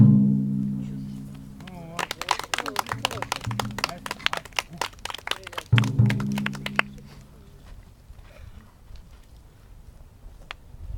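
A burst of sharp, rapid thunks and snaps from bow shots fired lying down by Zaporozhian Cossacks, loud and close, with a voice talking before and after.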